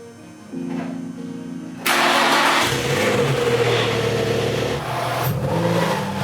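A Nissan 350Z with a newly installed exhaust starts with a short crank, then catches into a loud, deep idle that runs close and steady, with a light rev bump near the end.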